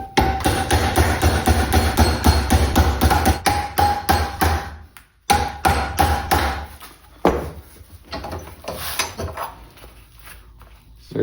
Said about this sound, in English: the other method that I use sometimes, which is to just hammer it down.